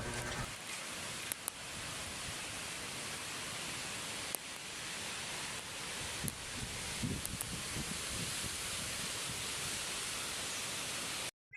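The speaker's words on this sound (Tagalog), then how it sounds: "pakinggan ang tunog ng hangin dito mga idol, para siyang alon sa dagat." Wind blowing across a farm field under coconut trees, a steady broad rushing hiss like distant surf, with a few brief rustles and gusts and no talking.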